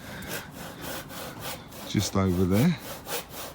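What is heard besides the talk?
hand sawing wooden posts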